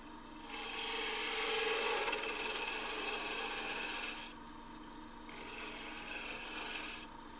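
A hand carving tool rasps against wood, tightening a cut on a twig pot, in two long scraping strokes with a brief pause between, close and steady with no talking.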